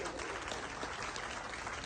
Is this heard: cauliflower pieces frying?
no